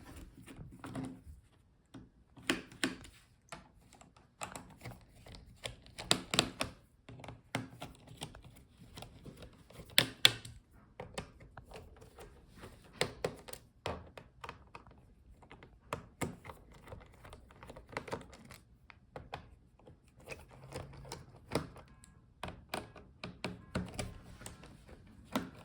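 Screws are removed from the underside of a Dell Latitude 3420 laptop, heard as quiet scattered clicks, taps and scrapes of a screwdriver close by, in irregular bursts with pauses between.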